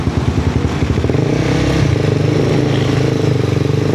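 A Honda CBR250R motorcycle engine chugging steadily at low revs at night, close and loud, with a slight rise in pitch midway as it rolls along slowly.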